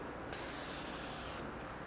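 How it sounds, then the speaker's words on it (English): A Graco paint sprayer fires a single burst of about one second, a loud, close, steady high hiss that starts and stops abruptly, with no talking. "And you can adjust the spray whether to go this way, flat like you'll see here."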